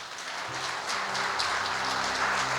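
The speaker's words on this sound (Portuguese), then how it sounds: "Aplauda Cristo." Applause swells from a church congregation during a Portuguese-language sermon, a soft patter of many hands that grows louder after the first half-second and holds steady with no voices over it.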